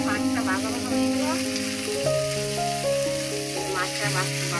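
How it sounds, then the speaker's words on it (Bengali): Fish is sautéed in a pan, a steady sizzling crackle with light stirring movements, near and moderately loud, while gentle background music with held notes plays beneath. "মাছটা কষাই দিলাম।"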